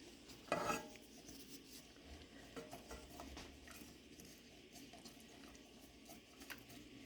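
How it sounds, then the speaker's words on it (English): A whisk works evaporated milk and sugar together in a bowl, making quiet, faint rasping and rubbing strokes with a brief louder clink near the start. "So you just whisk it together."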